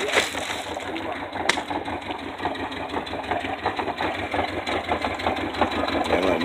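A boat engine runs at a steady idle before a taxi-boat scuba diving tour, with a continuous mid-pitched rumble and light rattling, a brief sharp knock near the start, and faint voices in the background.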